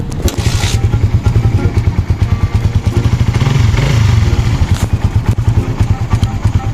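A motorcycle engine that has had its ECU removed runs close by in a rapid, loud, chugging idle with a lumpy, rhythmic beat and a brief rev near the middle; a voice is heard faintly over it.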